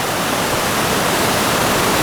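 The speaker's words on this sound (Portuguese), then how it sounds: "Cachoeira do Paraíso" Cachoeira do Paraíso, a waterfall in the Boa Família district of Minas Gerais, roars as a steady, loud broadband rush of falling water, continuous and close, with no voices.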